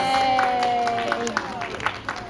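An aquarium crowd claps at the close of a sea lion show. The scattered applause is moderately loud and sits under a presenter's amplified voice.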